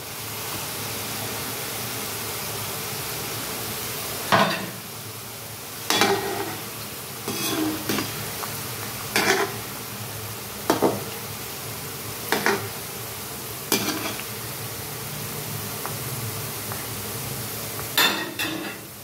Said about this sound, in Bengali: এইভাবে পান্তুয়াগুলো ভেজে নিতে হবে বন্ধুরা